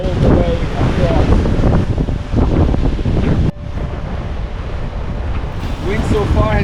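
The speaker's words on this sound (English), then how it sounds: "Wind so far hasn't really changed yet. Still about 19 knots through." Strong wind howling across the microphone at sea aboard a sailing catamaran heading upwind in a squall, loud and continuous with surging gusts and water rushing along the hulls.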